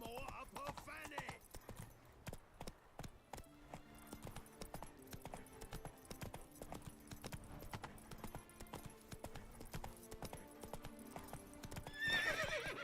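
Roach, a horse in The Witcher 3: Blood and Wine, gallops with steady, rapid hoof clip-clops throughout and gives a loud whinny near the end, while someone talks over the hooves.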